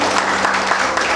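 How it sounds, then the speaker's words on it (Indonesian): A church congregation at a Sunday worship service applauds, a dense, loud, steady wash of hand clapping with a faint tonal hum underneath. "Tepuk tangan bagi Tuhan."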